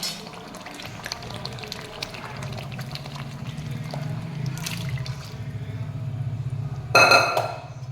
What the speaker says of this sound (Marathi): हे पाणीच घालत राहायचं ह्याच्यामध्ये थोडं थोडं